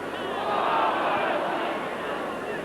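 Large rugby league crowd at Headingley for a 1961 New Zealand versus Great Britain test match, a steady distant roar of many voices that swells slightly and then settles.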